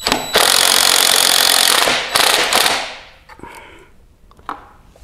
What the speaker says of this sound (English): And just loosen that. There's a nut on the other side.